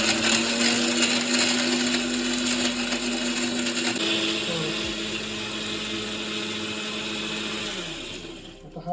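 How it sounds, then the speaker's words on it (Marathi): A kitchen mixer grinder blends small crab legs for a Konkani-style crab curry. It gives a loud, steady whirring grind with a rattling edge for most of the time, then winds down and stops at the end. "हे जे अंगडे आहेत म्हणजे खेकड्याचे छोटे पाय ते सुद्धा आपल्याला करायचे मिक्सरमध्ये"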